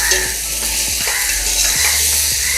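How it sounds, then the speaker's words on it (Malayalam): Fried onions stirred into a sizzling tomato and ginger-garlic paste for Malabar chicken biriyani, a continuous loud sizzle with repeated spoon scrapes against the pan, no voices. "നമ്മൾ നേരത്തെ ഫ്രൈ ചെയ്ത് വെച്ച സവാള നമുക്കിതിലേക്ക് ചേർത്ത് കൊടുക്കണം. ഇത് നന്നായിട്ട് മിക്സ് ചെയ്തെടുക്കണം."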